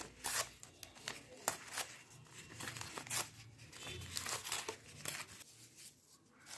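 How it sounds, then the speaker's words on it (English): Paper torn by hand for a preschool craft, a series of quick ripping and crinkling bursts, close and fairly quiet, repeated irregularly over several seconds. "Here I am going to tear the paper like this."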